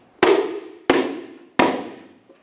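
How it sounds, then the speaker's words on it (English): Three sharp, loud knocks spaced roughly evenly, a wheel center cap being tapped into place on a 1994-2002 Dodge Ram 2500 wheel, each hit ringing briefly before fading, with no talking. "Now we'll just give it a loving bonk to drive it in place."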